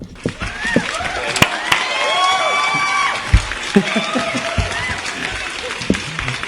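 Applause and cheering from a crowd, recorded for playback on a Catalan rock radio show, with scattered claps and whoops over a steady swell of clapping at moderate volume.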